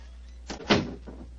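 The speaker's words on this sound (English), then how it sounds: "Please close the door behind us." A door to a cell in a mountain monastery swings shut with one short, solid thud, preceded by a softer knock, heard close in an otherwise quiet room.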